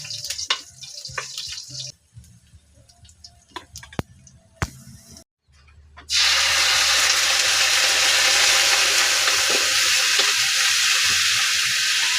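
Chopped garlic hits hot oil in a frying pan, bursting into a loud, steady sizzle that carries on unbroken after a few quiet clinks and scrapes of utensils.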